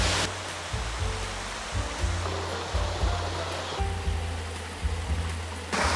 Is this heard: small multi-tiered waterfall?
yes